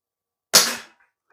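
An ASG Action Army T-11 spring-powered bolt-action airsoft rifle fires a BB once: a single loud, sharp snap that decays quickly into silence, with no voices.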